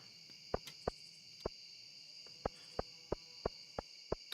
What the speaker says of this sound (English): And then you got the cicada sounds.